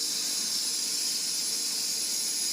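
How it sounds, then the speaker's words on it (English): Air hisses steadily back into a vacuum jar during a classroom sound experiment, making a continuous, fairly loud rushing noise with no breaks. "Now the air is coming back in."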